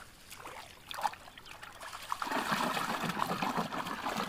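Sheet being washed in a river: water trickles and splashes softly nearby, becoming busier and louder halfway through as the cloth is worked in the current, with no talking.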